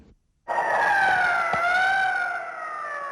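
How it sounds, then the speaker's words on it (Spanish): An ambulance siren wails loud and close during an attempted coup in Spain, a steady sustained two-tone wail that starts abruptly and holds for several seconds, alone without voices. "De vez en cuando una ambulancia rompe el silencio."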